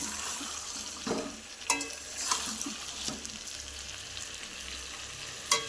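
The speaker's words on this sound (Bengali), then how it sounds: "আজকে মাংস হয়েছে যে কষানো হচ্ছে" Meat being kosha-sautéed in a pan sizzles quietly, with a few sharp stirring scrapes spaced every second or so over a low, even frying hiss; no one speaks.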